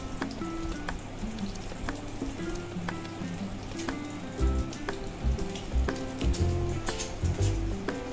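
An egg fries for egg posto, a Bengali dish, in a pan, with steady crackling sizzle and scattered oil pops throughout, plus a few louder scrapes or flips later on; no voices.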